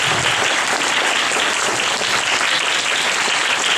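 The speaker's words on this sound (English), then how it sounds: "let's them a big, big, big round of applause" Dense, steady applause from a large audience at a Gurudev Jayanti celebration, loud and continuous throughout with no break or talk.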